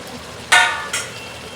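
Spice masala for biryani, fried in oil until the oil separates, gives two short bursts of loud sizzle as it is stirred, with quieter stretches before and between.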